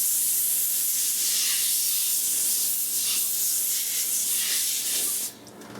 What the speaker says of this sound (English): We will coat it with our non-stick spray.